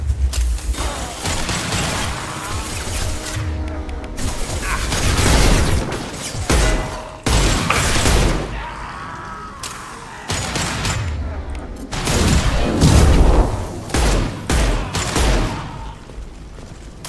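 Bursts of gunfire crack through a Mass Effect firefight on Insanity difficulty, loud and repeated in clusters with short gaps, with a voice speaking between the shots.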